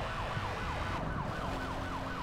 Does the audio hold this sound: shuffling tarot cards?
no